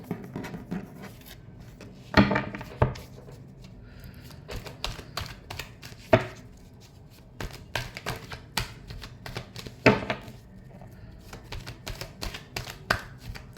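A deck of tarot cards is shuffled by hand, giving soft irregular riffling and tapping bursts with sharper clacks every few seconds, close and fairly quiet with no talking.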